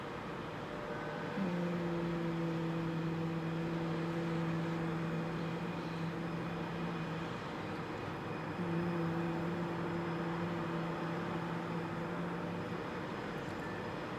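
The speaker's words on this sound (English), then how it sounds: "now hum the lowest sound you can hear and place your hand on your chest." A person hums the lowest note they can manage, a steady low tone held for about six seconds, then a pause and a second long low hum, over a constant background hiss.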